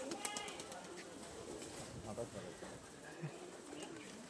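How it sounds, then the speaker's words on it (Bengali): Domestic pigeons outdoors on a village bird farm give soft, low cooing calls, faint and fairly distant, under quiet background noise with a person talking nearby. "এই যে বাইরে আরো কিছু কবুতর আছে, কবুতর ডাকতেছে বাক বাকুম করে"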